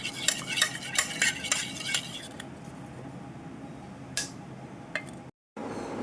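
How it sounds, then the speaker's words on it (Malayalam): A spoon stirs and scrapes a coffee powder face pack mixed with honey in a small bowl, with quick repeated clinks and scrapes early on, then a quieter stretch and a few isolated taps. "ഇതെല്ലാം കൂടി ചേർത്തിട്ട് നന്നായിട്ട് മിക്സ് ആക്കുക"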